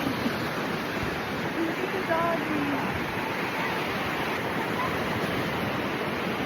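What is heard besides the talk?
ocean waves with tide coming in at Stinson Beach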